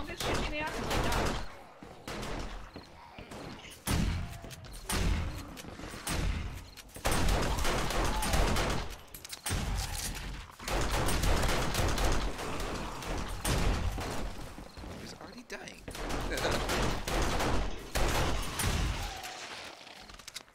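Video game gunfire crackles in repeated rapid bursts and single shots, loud and close, with brief pauses between volleys while people talk over the shooting.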